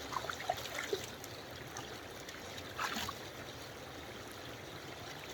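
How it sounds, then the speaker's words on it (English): Camping gear washed in a cold stream, soft splashes and sloshing at the start and again near the end over a faint steady trickle of running water, with no voices. "I've got to wash this stuff up."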